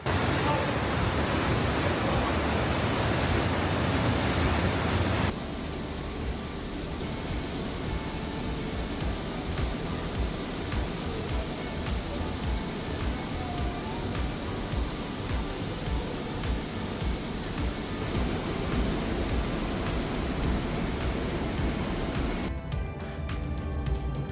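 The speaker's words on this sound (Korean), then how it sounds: "거대한 암벽을 뚫고 흐르는 에메랄드빛 물줄기와 울려 퍼지는 물소리는" A loud, constant roar of Trümmelbach Falls rushing through a rock cave near Lauterbrunnen, Switzerland, dense and unbroken, louder at first and then settling into a steady echoing rush.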